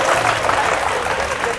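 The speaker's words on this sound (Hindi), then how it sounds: "एक बार ताली के साथ स्वागत करें" A crowd claps steadily in welcome at a prize distribution ceremony for a talent search exam, a loud dense wash of hands with no break.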